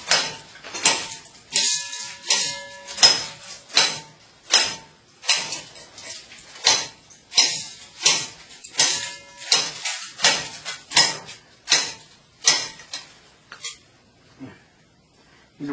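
A Schrade Extreme one-piece survival knife chops repeatedly into material, giving a steady run of sharp, loud knocking impacts about once per second that thin out toward the end.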